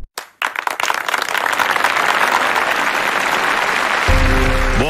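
Applause breaks out after a brief silence and swells into dense, continuous clapping from many hands, loud and close, with a tone entering at the very end.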